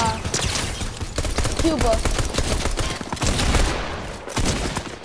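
Rapid bursts of gunfire ring out in a Fortnite match, loud and near, with repeated shots crowding the whole stretch while a voice talks over them.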